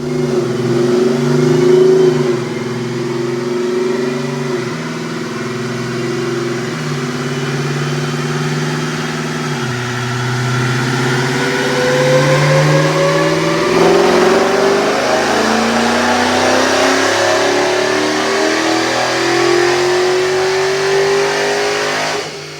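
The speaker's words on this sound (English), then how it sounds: "check out this dyno pull" A 2019 Dodge Charger Hellcat fitted with 1 7/8 headers and ID 1050 injectors roars through a dyno pull, the engine climbing steadily in pitch for over twenty seconds, loud and close, with no talking.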